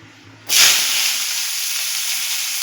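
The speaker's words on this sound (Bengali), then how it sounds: "তেলটা গরম হলে আমি নারকেলগুলো এর মধ্যে ভেজে নেব" Coconut pieces drop into hot oil in a wok and burst into a sudden loud hiss that settles into a steady, close sizzle.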